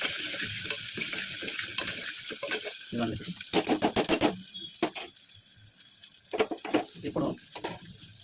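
Ginger paste stirred and frying in hot oil for a mutton curry, with sizzling and spoon scraping in bursts alongside running water, mixed with a nearby voice speaking.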